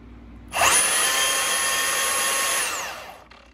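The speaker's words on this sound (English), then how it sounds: "You hear that little noise at the end after the blade stopped moving?" Milwaukee M18 Fuel cordless band saw, a loud high whirring hum that starts abruptly, holds steady for about two seconds, then winds down to a faint lingering whine after the blade stops.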